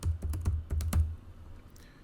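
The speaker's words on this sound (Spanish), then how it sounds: "Y voy a teclear Dialnet." Keys clack on a computer keyboard at close range, five or six quick taps in an uneven burst that then falls quiet.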